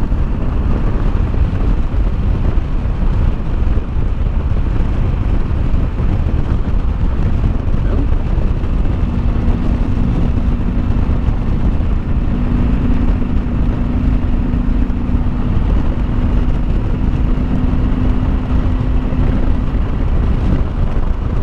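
A 2007 Honda VTX1300 trike conversion cruising in 5th gear gives a steady low engine drone under constant wind rush, with a faint sustained tone rising out of the rumble midway through.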